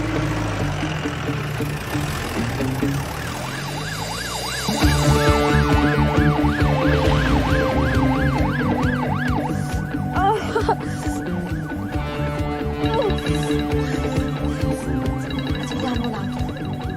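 An ambulance siren wails loud and close, its rising and falling tone cycling steadily for the whole stretch and growing stronger partway through amid street noise.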